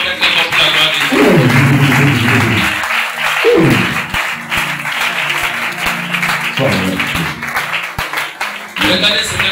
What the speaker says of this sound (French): Acclame alors le Christ.